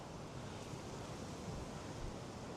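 Rough sea waves break along the coast at Point Pedro, Sri Lanka's northern tip, near a lighthouse. They make a steady, fairly faint broadband roar with no pauses and no talk.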